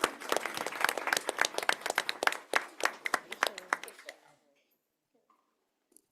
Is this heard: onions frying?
no